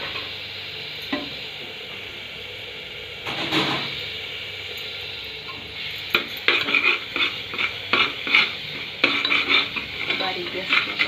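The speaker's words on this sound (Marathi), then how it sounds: "मसाला व्यवस्थित भाजला जातो का?" Homemade masala roasting in a pan for bhogi bhaji, with a spoon scraping and stirring in a run of close clinks and scrapes, quiet at first and then busier over a low sizzle.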